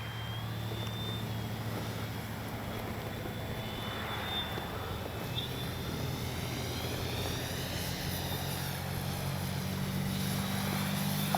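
FMS 1400mm F4U Corsair RC model warbird coming in to land: a continuous droning propeller whine, steady and moderately close, over outdoor rumble and wind.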